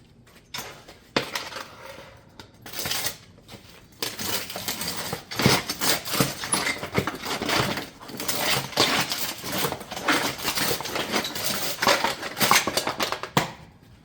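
Metal roof ridge panels for a Pine Crest shake batten roof being cut up close, a steady run of sharp metallic snips, crunches and clinks that starts sparse, then continues densely for about ten seconds, with no talk.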